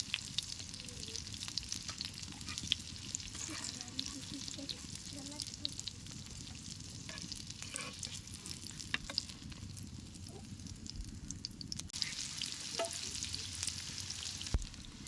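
Oil sizzles and crackles steadily as rohu fish pieces fry in a pan, with occasional clicks and a quiet voice in the background.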